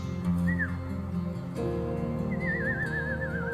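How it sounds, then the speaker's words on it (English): A person whistles two faint, short phrases: a quick rising-falling note, then a longer warbling trill, over steady low background noise outdoors. "Whistling."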